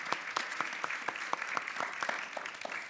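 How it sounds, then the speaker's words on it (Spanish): Audience applause fills a theatre hall after a talk, a steady wash of many hands clapping at moderate distance, with no voices over it. "Yo puedo aplaudir."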